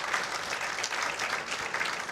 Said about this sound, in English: Nice round of applause from the crowd.